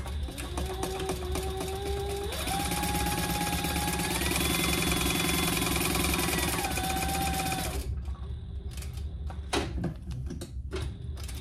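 A sewing machine stitches down the sides of a folded fabric piece for a handmade waist pack, humming steadily at close range with a rising motor pitch before stopping, followed by a few faint clicks.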